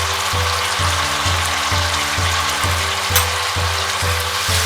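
Chicken stirred with chopped tomato and salt in a frying pan, a close, steady sizzle with brief scraping stirs, over a rhythmic low pulsing hum.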